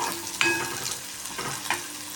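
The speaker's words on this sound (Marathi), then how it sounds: "कांदा चांगला फ्राय होतोय." Onion frying in a pan until browned, a steady close sizzle with a couple of stirring scrapes.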